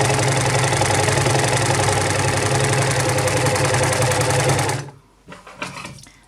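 An overlocker sewing machine stitches rapidly along a fabric edge, a loud steady whirring chatter that runs for several seconds, then stops, leaving a few soft handling sounds.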